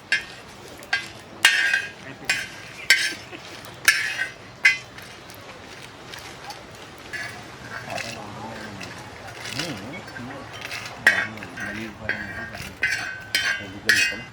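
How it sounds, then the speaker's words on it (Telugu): Roasted spices for paneer biryani are pounded by hand in a steady run of sharp, close knocks and clinks, with brief pauses and a faint voice murmuring now and then. "వేయించుకున్న మసాలాలు అయితే ఇగో ఈ విధంగా నేను దంచుకుంటున్నా"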